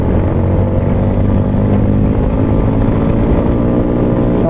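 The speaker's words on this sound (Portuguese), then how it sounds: "É uma moto de bastante torque, ó," A Yamaha XTZ Lander 250 motorcycle climbs uphill, its engine droning loud and steady under load throughout, with no pause and no one speaking.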